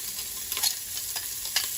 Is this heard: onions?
yes